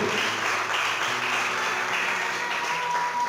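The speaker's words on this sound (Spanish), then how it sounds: "Aplauda al Señor." Church congregation applauding during a Spanish-language sermon, a steady wash of many hands clapping in a reverberant hall, continuous and moderately loud, with faint tones from instruments or voices running underneath.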